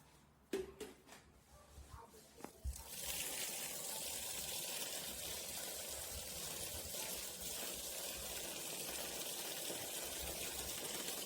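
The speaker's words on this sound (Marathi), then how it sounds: "ते चांगलं धुवून घ्यायचं सगळं." Fenugreek seeds and rice being washed in water for idli batter, a few clinks and splashes at first, then a steady gushing pour of water running continuously.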